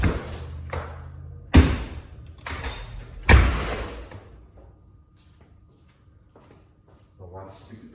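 A door on an electric scooter under repair fails to close, giving a few heavy thuds and knocks as it is pushed shut, with some handling noise in between and quieter stretches after.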